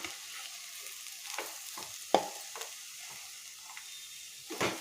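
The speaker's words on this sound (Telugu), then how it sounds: "కారం మొత్తం పట్టేలాగా మంచిగా చక్కగా ఫ్రై చేసుకోవాలి." Andhra-style bitter gourd fry stirred in a pan with chili powder: a soft continuous sizzle broken by several sharp spatula scrapes and clinks, close and fairly quiet.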